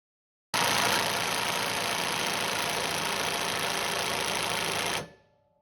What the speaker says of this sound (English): This is the new attempt to loosen a nut torque down to 100 Newton meters.